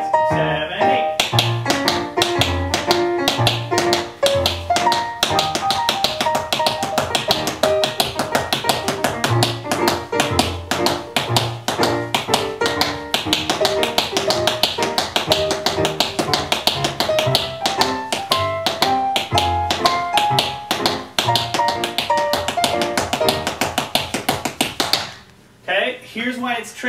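Tap shoes rap out steady, crisp rhythmic steps, including flaps, on a hard floor over slow-tempo instrumental music for about twenty-five seconds before the music and taps stop.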